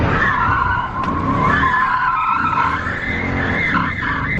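BMW E36 with a welded differential drifting, tires squealing in a sustained wavering screech over engine roar, loud and continuous, no talk.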